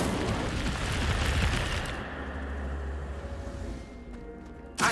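An Incendio fire spell cast in Hogwarts Legacy, a rushing, roaring burst of flame noise that swells, then settles into a low rumble before fading, with a sharp pop right at the end.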